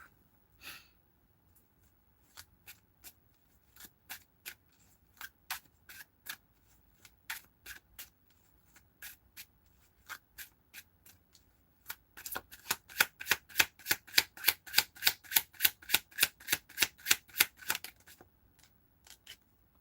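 Tarot cards shuffled by hand in a fortune-telling reading: sparse, irregular riffling clicks at first, then a dense, loud run of rapid card snaps near the end before trailing off, with no talk.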